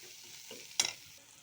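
Chillies and onions fry quietly in a pan, a soft hiss broken by one sharp scrape or stir partway through, then settling back to a faint sizzle.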